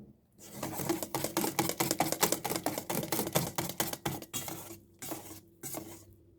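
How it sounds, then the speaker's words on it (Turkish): Brownie batter whisked in a bowl: rapid, dense clicking and scraping of a whisk against the bowl in quick bursts, close and fairly loud, pausing briefly near the end before a final short flurry. "Yine güzelce ne çırpacağım"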